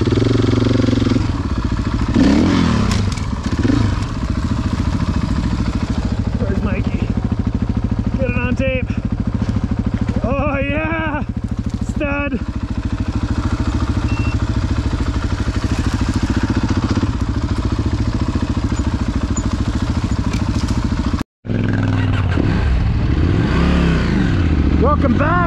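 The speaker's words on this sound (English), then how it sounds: "Welcome back to the KTM 790 Adventure R." A KTM 790 Adventure R adventure motorcycle engine runs steadily and loud through most of the ride, with rising revs and shifting tones, broken by a brief cut near the end before the engine noise resumes.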